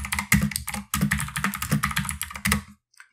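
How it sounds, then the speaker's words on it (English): Fingers type into a web chat window on a computer keyboard, a close, crisp run of quick clicking keystrokes in short bursts with brief pauses, ending in silence. "and I can type something in here"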